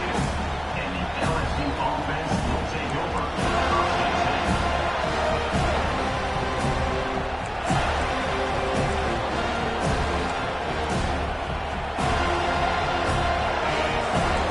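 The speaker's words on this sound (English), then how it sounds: "this crowd is fired up. Listen to this noise here" A fired-up home crowd roars steadily at a college football game between FSU and LSU, a dense, loud wall of cheering and noise that swells in places, with voices talking over it.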